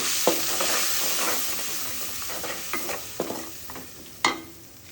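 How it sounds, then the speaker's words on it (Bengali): Ground cumin, turmeric, salt, chili powder and garlic paste fry in oil in a pan. A steady sizzle runs throughout, broken by several short scraping stirs, with no talking. "এখন আমি মশলাটা একটু কষিয়ে নেব"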